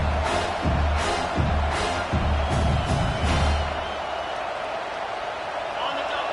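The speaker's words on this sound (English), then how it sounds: "Decibels rising as the crowd gets behind this defense on third down" A football stadium crowd swells behind the home defense on third down, a dense, steady roar filling the whole clip with voices talking over it.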